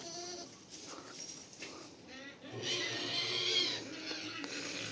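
Young goat kids bleating in a farm shed as they are let out, several high wavering cries overlapping close by, with a louder burst in the second half.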